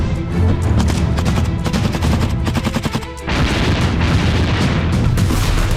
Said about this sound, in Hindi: कुर्स्क में लगी सीमा पर रूसी तोपें गरज रही हैं।